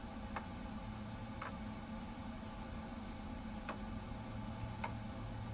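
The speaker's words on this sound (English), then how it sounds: "Beautiful flap sounds." Flaps moving on a PMDG 777 airliner in Microsoft Flight Simulator, a steady mechanical hum with faint periodic clicks repeating about once a second, heard alone over a constant low drone.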